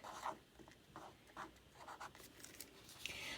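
Pen strokes scratch across paper during a coin-counting math lesson, a quiet run of short, uneven scribbles with brief pauses, alone with no voice.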